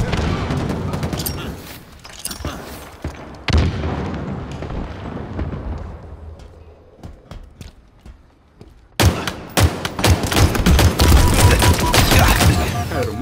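Bursts of loud, rapid gunfire and booming blasts in Halo Infinite, thinning into scattered shots before erupting again into a dense volley of gunfire and explosions.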